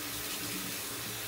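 A shaving brush is rinsed under a running tap, a steady close rush of water spattering continuously over the brief moment.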